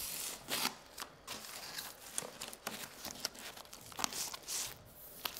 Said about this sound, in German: zieh dann langsam die Folie des Klebestreifens ab